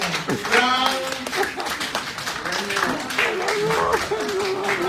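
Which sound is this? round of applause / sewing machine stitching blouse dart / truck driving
round of applause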